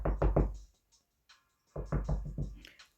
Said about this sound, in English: So knock, knock, knock, knock, knock. Who at the door?